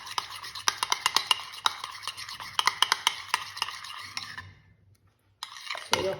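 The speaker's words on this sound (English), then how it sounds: "Just whisk it nicely." A whisk beats cream and sugar in a bowl with a fast, steady run of clicking taps against the sides, close and crisp, then stops briefly before another scrape starts, with no voices.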